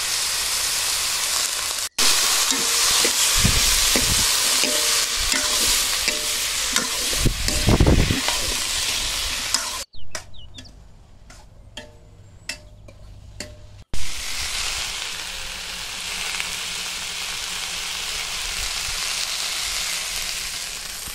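Fig fruit sautéed in hot oil in a pan, a loud continuous sizzle with scraping stirring strokes, a brief quieter pause with faint clicks, then steady frying resumes.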